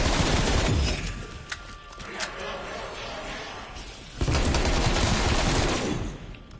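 Video game gunfire aimed at zombies, dense bursts of rapid shots filling the scene, easing briefly mid-way then returning loud and sustained, with players talking over it.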